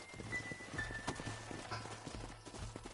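Soft, uneven clip-clop of horse hooves walking at a slow pace in the video game Red Dead, fairly quiet, with faint background tones and no clear speech.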